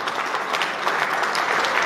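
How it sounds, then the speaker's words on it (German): Audience applause at the Dach + Holz International 2018 trade fair in Cologne, a steady, dense clapping from a sizable crowd that holds at an even level throughout without any talking. "das ist euer Applaus"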